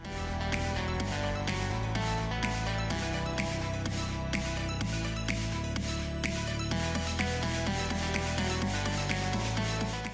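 Light, rhythmic swipes of a marker rub across paper while drawing a purple aura, each stroke a soft scratchy brush repeating at a steady pace over background music.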